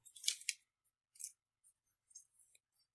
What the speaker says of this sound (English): Kind of hard to get the tape to go on just right